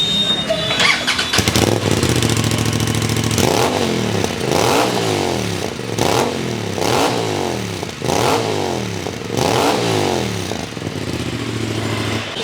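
An Aprilia RS 457 motorcycle with an Akrapovic full-system exhaust is started and revved close by, a series of about seven sharp rising and falling revs over a steady idle, loud and alone.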